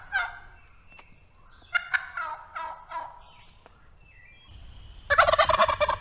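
A North American wild turkey gobbles its spring mating call in Pennsylvania, a rapid rattling burst of gobbles near the start followed by further calls, then a louder, harsher bird outburst at the end.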